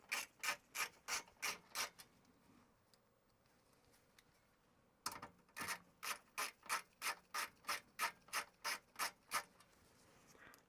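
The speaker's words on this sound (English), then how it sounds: "Go back to our regular screwdriver for these bigger screws with the fine threads." A regular screwdriver drives larger fine-thread screws into a clear Macintosh SE case, with rhythmic ratcheting, squeaky turns in two runs separated by a quiet pause, close and alone.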